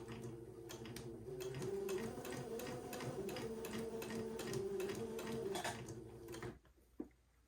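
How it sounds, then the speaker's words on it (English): A sewing machine runs steadily for about six seconds, stitching a seam on the inside of a baby garment, then stops, followed by a single faint click. "I'm going to carefully sew next to the entree line on the inside of the garment, taking the pins out as I come to them."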